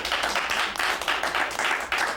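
A wrestling talk-show studio audience claps in a rhythmic, pulsing burst of applause, loud and close, with no voices over it.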